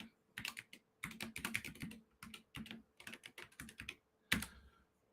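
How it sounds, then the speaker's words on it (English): Password typed on a computer keyboard, with quick bursts of close, crisp key clicks in uneven clusters separated by short pauses, ending in a harder final keystroke. "I even typed the password."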